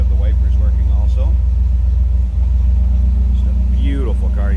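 A 1957 Chevrolet Bel Air convertible's engine idles steadily and smoothly, a close, even low rumble that holds throughout while someone talks over it.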